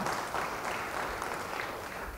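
Faint applause during an online Bible study session, a soft, steady patter of clapping with no voices heard.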